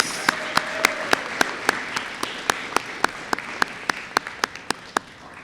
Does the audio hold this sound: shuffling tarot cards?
no